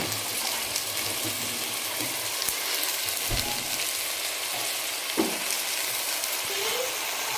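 Mutton rubbed with turmeric and salt sizzles steadily in a hot pan, a continuous close frying hiss with a few soft knocks and scrapes.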